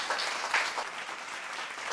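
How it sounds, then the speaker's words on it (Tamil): A short stretch of soft, steady applause rises from an audience clapping for a child, fairly distant and even throughout with no voices. "இந்த குழந்தைக்கு தனிப்பட்ட முறையில் எல்லாரும் ஒரு கைத்தட்டு கொடுக்கணும்"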